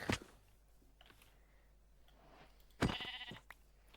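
Two sheep bleats sound in a video game, one sharp call at the start and a louder, longer one near the end, over quiet background ambience with faint clicks.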